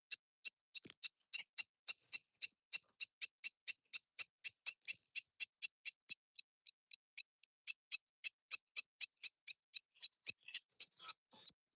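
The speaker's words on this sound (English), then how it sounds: "I'll shut up for a second so you can hear these birds." Birds by a Florida lake give a long series of rapid, evenly spaced sharp chirping calls, fairly faint and close to steady in rhythm, with a short pause midway and no talking.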